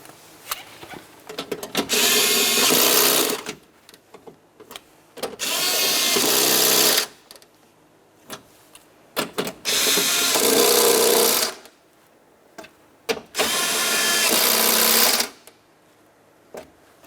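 A power tool runs in four separate bursts of about two seconds each, with short pauses between, as window regulator mounting bolts are snugged down on a 2007-2012 Nissan front door.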